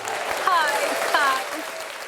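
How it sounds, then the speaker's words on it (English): A studio audience applauds in a dense, steady burst while excited voices and squeals rise over the clapping. "You're not used to the sound of clapping and applause?"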